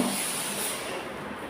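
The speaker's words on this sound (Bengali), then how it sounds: "প্রেশার কুকারে ডাল সিজ দিচ্ছে" Steam rushes steadily from a pressure cooker cooking dal, a loud and unbroken hiss that fills the short moment with no voices.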